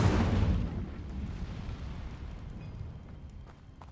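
The Incendio fire spell from Hogwarts Legacy bursts out: a loud, deep whooshing blast at the onset that rolls into a fading, crackling rumble of flames over a few seconds.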